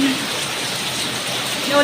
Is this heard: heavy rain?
yes